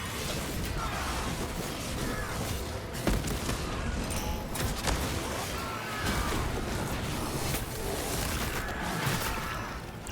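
Rapid mechanical gunfire from a servo harness gun in the Warhammer 40,000 Deathwatch video game, a dense continuous fusillade with booms and crashes lasting throughout, loud and busy with battle noise.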